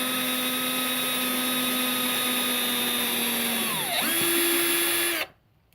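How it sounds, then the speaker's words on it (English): A power drill whines at steady pitch while boring a small pilot hole, dips briefly under load, revs back up, then cuts off abruptly into quiet, on a cold screened-in porch. "I drill a little pilot hole for the hook."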